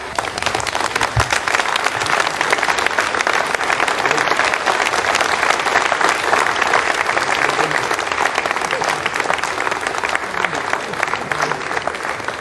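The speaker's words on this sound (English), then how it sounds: "You can hear the applause now from the people in Jupiter." Sustained, dense applause fills a mission control room after satellite separation on an Ariane 5 launch, a steady loud roar of many hands clapping continuously for over ten seconds, with a voice speaking over it.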